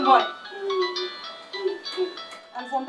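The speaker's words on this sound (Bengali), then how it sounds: "আমি ফোনটা ধরি।" A phone rings with a short melodic ringtone, a sequence of clear electronic notes rising and falling for a few seconds, fairly close and alone.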